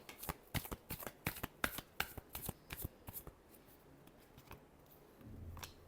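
Tarot cards being shuffled by hand, a quick run of about a dozen crisp riffling snaps close to the microphone, thinning out and going quiet near the end with a soft low rumble.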